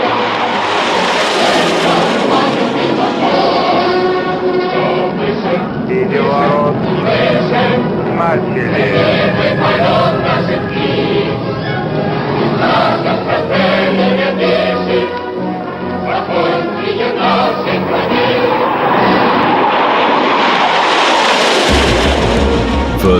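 Jet fighter engines roar loudly and continuously in a documentary on early Soviet jet-era fighters, with booming, rumbling bursts layered in, rising near the start and end, while narration plays over it.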